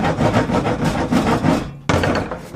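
Primer and light surface rust being scraped off the steel floor of a 1960 Pontiac barn find, a close series of rough rasping strokes in quick rhythm, broken by a brief pause before scraping resumes.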